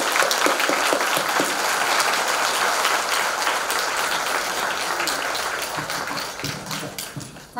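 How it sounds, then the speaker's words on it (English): An audience at a university welcoming ceremony for a Pro-Vice Chancellor gives a steady round of applause, a dense, even patter of many hands that holds throughout and fades slightly toward the close. "Please join me in a round of applause to welcome and honor our Pro-Vice Chancellor."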